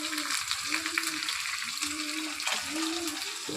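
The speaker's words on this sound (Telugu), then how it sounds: "ఈ ముక్క ఉల్లిపాయ, పచ్చి ఉల్లిపాయ కట్ చేసుకొని వేసుకోవాలండి, బాగుంటుంది. ఎర్రగా చక్కగా వేగాలి." Chopped raw onion and curry leaves fry in hot oil, giving a close, continuous sizzle with soft stirring scrapes and a few brief tonal squeaks, no speech.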